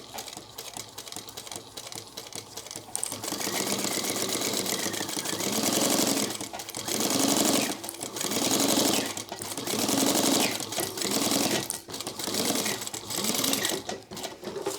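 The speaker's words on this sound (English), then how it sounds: "we're gonna pick one side of where that excess starts, and then we're gonna start sewing" Sewing machine tacking sling crossbody bag pieces together at a long 5mm stitch length, loud and close, starting with a few short bursts and then running in longer sustained stretches with brief stops.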